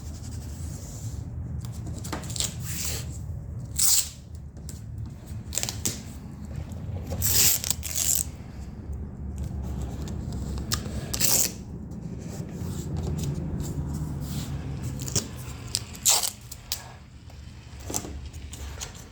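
Masking tape is pulled and pressed down onto a car in short ripping and crinkling bursts, repeated irregularly at close range against a quiet workshop background.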